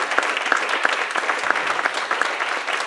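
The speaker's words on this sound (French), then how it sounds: "on peut les applaudir encore une fois" Church audience at a youth service applauding steadily, a dense continuous patter of many hands held at even loudness throughout, close and without speech.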